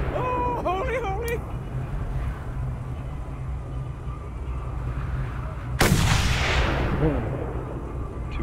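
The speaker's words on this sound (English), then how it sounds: "Two shots, two kills." Gunfire in the Mad Max video game, with a loud sharp shot cracking out over a steady engine rumble and someone talking.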